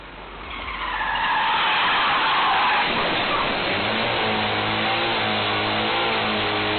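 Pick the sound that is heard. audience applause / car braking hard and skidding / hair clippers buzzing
car braking hard and skidding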